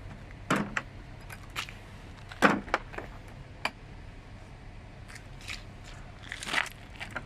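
A tool kit case is set on the floor and opened, giving scattered plastic clicks, latch snaps and rattles of tools, close and fairly quiet against a faint hum.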